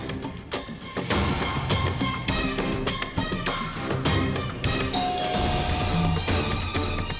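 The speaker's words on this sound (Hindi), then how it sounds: "डोरबेल बजी है, अगर कोई है वहाँ पे।" A doorbell chimes amid busy dramatic background music with percussive hits, the ding-dong tones standing out briefly against the score.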